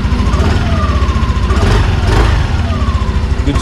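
A Yamaha NMAX V2 scooter engine idles close by, a steady, even putter with a smooth rhythmic pulse and no revving, running alone throughout.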